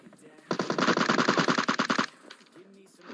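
A rapid burst of suppressed automatic fire from an M762 rifle in PUBG Mobile lasts about a second and a half, dense and even, then cuts off to quieter game ambience.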